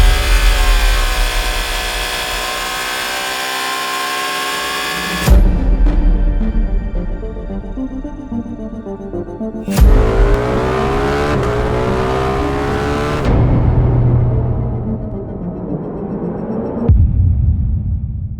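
A Ducati Streetfighter V2 motorcycle engine revs hard in several bursts, loud and close, each climb cutting off abruptly before the next rev.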